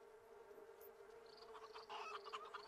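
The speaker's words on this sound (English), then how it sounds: "All the lilting sound of bees and chickens." Insects buzz faintly amid a game's ambient farmyard soundscape in The Sims 3, with a steady tonal hum and light chirps and flutters that grow slightly busier toward the end; no talking.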